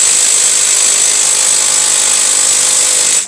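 A loud, steady mechanical whir and rattle fills the whole stretch, close and continuous, as an impact tool works on the cylinder head bolts during a blown Hemi engine teardown, then cuts off abruptly at the end.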